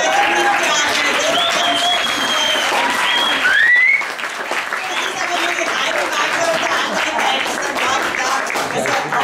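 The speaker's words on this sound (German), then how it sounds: "einen riesen Applaus noch einmal an das tolle Team" An audience applauds steadily and loudly for a team after a performance at a Vienna music school, sustained clapping with some whoops and voices mixed in throughout.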